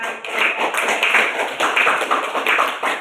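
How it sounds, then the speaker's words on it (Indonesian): Applause from a classroom audience of students, a dense steady patter of many hands clapping together, fairly close and continuous without pause. "kita berikan aplaus kepada"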